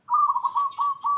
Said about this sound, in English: Some birds over here.